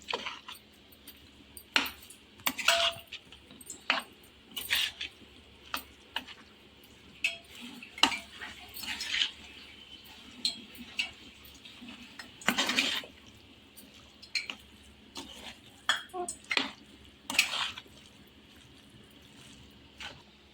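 Spiced goat blood curry being stirred in a pan with a spoon, irregular close scrapes and clinks of metal against the pan over a faint low simmer, repeated every second or two, with no talking.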